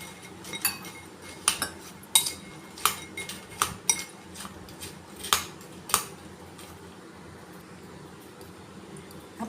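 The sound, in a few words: spoon stirring Oreo biscuit batter while adding milk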